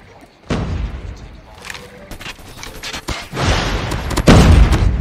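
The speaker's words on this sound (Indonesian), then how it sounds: "Wih, shotgun lagi." Shotgun blasts ring out in a mobile shooter game, several loud booming shots layered over dense continuous gunfire and explosions, close and intense, with a few brief vocal exclamations.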